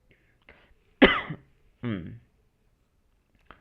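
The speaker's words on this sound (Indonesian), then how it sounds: "Kok saya tiba-tiba batuk ya?" A few sharp coughs, one loud burst then a second shorter one, close to the mic in an otherwise quiet room, with faint soft sounds around them.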